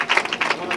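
A crowd applauds the youth champions at a Spanish Doma Vaquera horse riding championship, a brief burst of dense, steady clapping at moderate distance.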